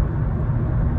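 Mercedes-AMG 63 V8 biturbo estate car driving, a steady low engine and road rumble heard from inside, continuous and fairly loud for the whole second.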